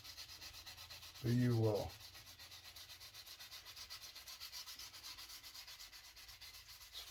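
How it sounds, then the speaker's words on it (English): Sandpaper rubbed along the frets of a homemade cigar box guitar, one short scratchy burst of sanding, close and fairly loud, with a few quiet spoken words and a steady background hum. "Kind of put your finger so that the sandpaper gets in between the frets as well."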